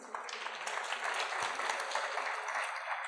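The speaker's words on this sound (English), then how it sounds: "Let's give them a round of applause for having us." Audience applause at a design-tech talk event: a room of people clapping steadily and fairly softly for a few seconds, with a faint low thump partway through.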